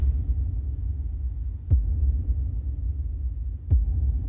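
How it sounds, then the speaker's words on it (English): Two deep, booming kick drum hits about two seconds apart, each with a low, lingering reverberant tail over a rumbling bed. "a different character of the kick drum coming into the reverb"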